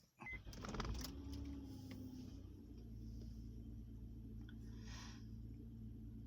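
A car engine cranks briefly and catches, then settles into a steady, close idle hum that runs to the end with no talking.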